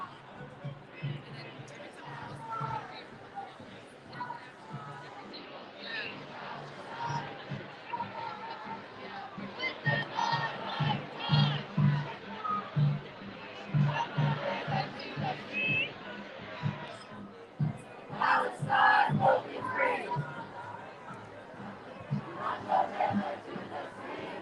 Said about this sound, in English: now you guys have a sense of how big the crowd is